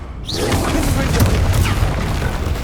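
A spell explosion in the video game Hogwarts Legacy, a loud booming blast with a rushing roar that sustains, under brief voices.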